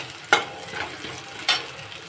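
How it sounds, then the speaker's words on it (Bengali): Potatoes fry in a pan with a continuous moderate sizzle, punctuated by two quick stirring scrapes. "তারপরে দেখো আলুটা ফ্রাই করছি"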